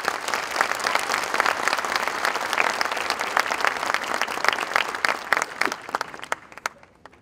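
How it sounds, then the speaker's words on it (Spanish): A university audience applauding to welcome a speaker, many hands clapping in a dense, lively burst that holds steady and then tapers off near the end. "recibamos a Juan Esteban con un gran aplauso."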